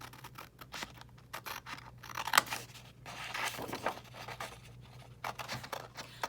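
Scissors snip and crunch through a Sears & Roebuck stereoscope card, a run of close, irregular cuts with papery scratching and no talking.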